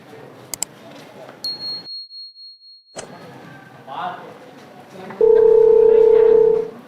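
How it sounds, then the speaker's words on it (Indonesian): Calling a teacher from a vocational high school on a phone produces a steady electronic dial tone over a faint background, with a few short beeps before it, then a loud sustained ringback tone near the end. "Kita telepon dulu gurunya ya."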